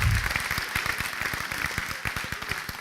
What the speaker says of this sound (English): That's what you're going to clap for?